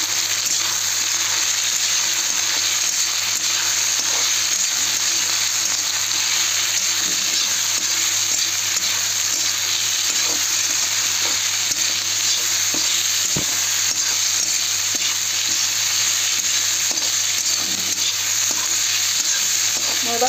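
Food fries and sizzles in a pan while being stirred, a loud, continuous hiss with occasional scraping clicks, steady throughout and free of talk.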